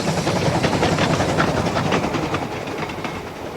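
A train on the Waverley railway line near Kelso rumbles past as a steady, loud broadband roar with a faint rhythmic clatter of wheels, fading slightly toward the end, with no voices.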